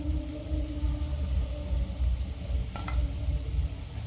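Idiyappam fries in a pan in a kitchen, giving a steady, soft sizzle with stirring throughout and a brief metallic clink near the end; no one speaks.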